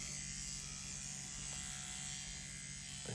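A Dragonhawk Mast Racer Pro tattoo machine runs on soft mode at 70 hertz, giving a steady, faint electric buzz with a constant hum throughout and no pauses.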